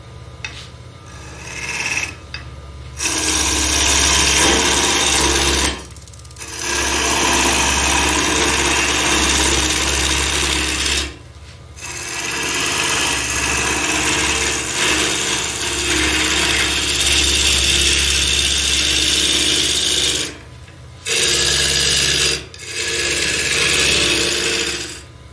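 A wood lathe roughs out a hollow form with a gouge, a loud steady rasping cut over the motor hum, broken by several short pauses between passes.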